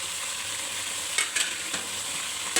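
Potatoes fry with kalonji, fennel seeds, coriander powder and fenugreek seeds for achari aloo, making a soft, steady sizzle close by, with a few sharp spoon-stirring scrapes against the pan and no talking.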